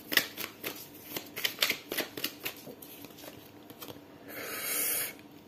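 Tarot cards shuffled and drawn up close: a quick run of soft papery flicks and taps, then a longer, louder riffling rush near the end, with no voices.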